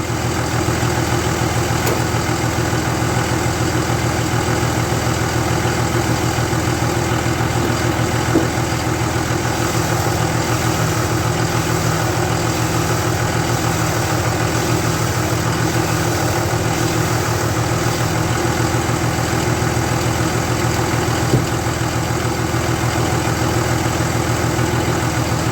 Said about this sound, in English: Let's watch how much this thing deflects when I wiggle the steering back and forth.